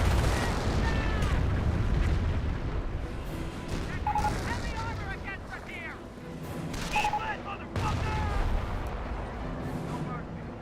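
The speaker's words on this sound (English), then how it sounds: "Calliope barraging over here." Calliope rocket barrage in Company of Heroes 1, a rapid volley of whooshing launches and booming impacts rolling on in waves, with voices in the mix.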